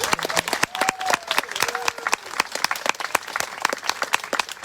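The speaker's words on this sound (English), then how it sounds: "how about a round of applause for all of our high school arts?" Audience at a student art exhibition award ceremony applauding for high school art teachers, steady clapping from a modest crowd with distinct individual claps and a few faint whistles.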